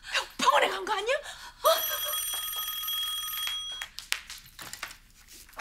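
A telephone rings indoors in a TV drama scene, a bright repeating electronic ring lasting about two seconds, with voices talking before and after it.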